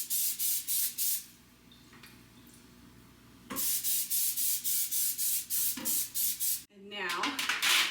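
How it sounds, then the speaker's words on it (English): Cooking spray is sprayed onto a wire rack set on a sheet pan over a sink: a run of short, loud hissing bursts, a quieter pause, then another steady run of bursts. "I'm just going to spray this over my sink."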